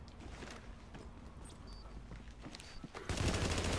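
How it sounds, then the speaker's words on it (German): Gunfire in The Division video game: scattered rapid shots crackle at mid distance, then a dense loud burst of automatic fire erupts near the end. "Da schießt irgendwo einer."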